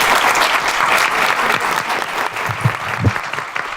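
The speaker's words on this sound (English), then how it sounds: "So let's hear a round of applause" A large audience at a diversity symposium claps steadily and loudly, a dense wash of applause that holds throughout and thins slightly toward the end, with a few separate louder claps standing out.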